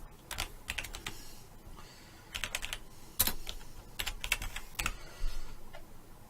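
Key presses on a computer keyboard, entering shortcuts like copy and paste while editing in software, a quick irregular sequence of close, crisp clicks in short bursts with a few louder strikes.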